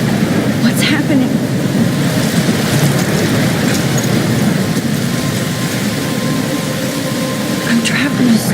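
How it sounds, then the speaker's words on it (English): Thunderstorm in Life Is Strange near a lighthouse, dense steady rain pouring with a low rumbling undertone, loud and continuous, with a voice talking briefly over it. "I'm trapped in a storm?"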